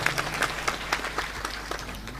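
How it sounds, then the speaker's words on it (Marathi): Applause from a crowd at a Marathi devotional gathering, medium-distance claps in uneven bursts, fairly faint and steady over a low hum. "एकदा टाळ्या वाजवा त्यांच्या नावाने"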